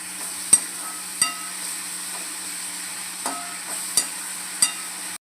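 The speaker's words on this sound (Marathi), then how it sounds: "आता कांदा आपल्याला एकदम असा लालसर मस्त शिजवून घ्यायचा आहे." Onions cooking in oil for a chicken curry give a low, steady sizzle, broken by several sharp clicks and taps of a spoon against the pan, close and free of speech.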